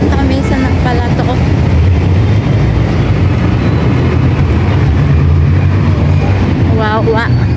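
An LRT light rail train passing in Santa Mesa, heard from a nearby road as a loud, continuous rumble and roar with bursts of traffic noise, while voices talk over it.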